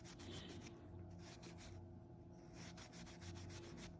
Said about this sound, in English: then just lightly sand down the peaks to expose that detail